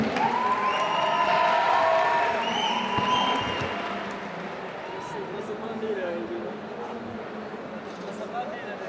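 An audience at a panel discussion on digital products applauds and cheers for a panelist, with steady clapping, whoops and shouting that gradually fade, mixed with voices.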